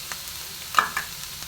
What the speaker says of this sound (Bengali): নারিকেলটা বেশ ভাজা ভাজা হয়ে গেছে